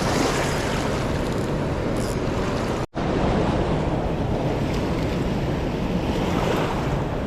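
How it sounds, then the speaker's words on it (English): A raging river current rushes loudly and steadily, a dense continuous roar with wind buffeting the microphone and a brief dropout near the middle. "The river's so crazy that I don't want the current just to start yanking my stuff away."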